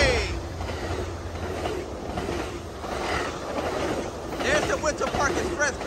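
An Amtrak passenger train with two P42 locomotives and a Winter Park Express coach rumbles past nearby at a station, with rolling wheel noise and a brief squeal near the end, while people talk faintly in the background.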